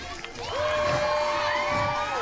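At a Lucha Xtreme wrestling show, the crowd roars for the wrestlers, a loud continuous cheer with high whoops and shouting riding over a broad crowd din, held steady for the whole moment.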